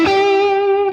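A single sustained electric guitar note through distortion, struck sharply and ringing with bright, buzzy overtones that hold steady for about a second, loud and close with no talking.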